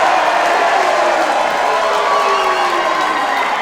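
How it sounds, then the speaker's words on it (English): A wrestling crowd in a ballroom cheers for the wrestler Jarvis in a loud, steady, reverberant roar that holds through the whole stretch. "that's the echo, the reverberated cheer for Jarvis"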